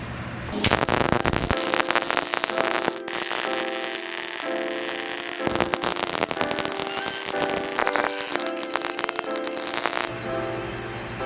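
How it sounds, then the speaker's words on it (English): Welding captive nuts onto the exhaust of a 1987 Toyota 4Runner, a loud, continuous crackling buzz of the arc running nearly the whole time, with brief pauses and no talking. "I'm gonna fix that by welding on some captive nuts."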